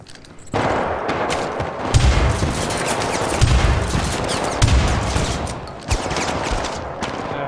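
Gunfire in the co-op shooter game Syndicate: repeated heavy shots in spaced bursts, each a loud low thump with a sharp crack, over a constant dense bed of in-game battle noise.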